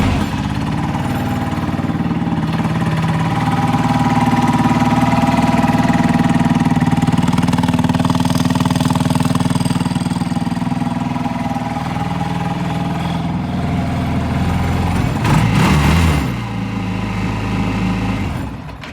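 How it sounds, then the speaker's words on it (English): Small moped motor powering a jet drive kayak, running steadily with through-hull exhaust, a loud close rattling drone that holds level before a short burst and slight drop near the end. "She sounds good, especially for being a little moped motor."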